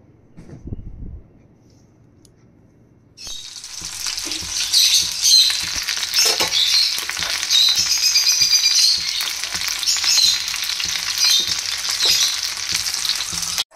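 Chili chicken frying and being stirred in a pan, a loud steady sizzle that starts abruptly after a quiet moment, with scraping and clattering stirs throughout.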